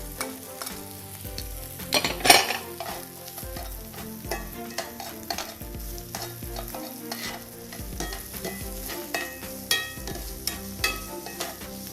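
Andouille sausage and peppers sizzle and crackle steadily in a hot pan, with a few sharper clatters of stirring against the metal and no talking.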